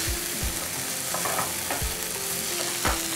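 Rajma beans are stirred in a hot pan with a spoon, giving soft scraping knocks over a low, steady sizzle. The sound is close and short, with no talk.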